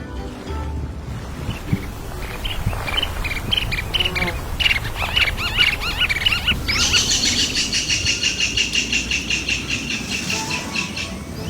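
Birds calling in the Sundarbans mangrove forest, varied chirps and tweets scattered over a low background rumble, turning into a dense, rapid repeated chatter in the second half, moderately near with no voices.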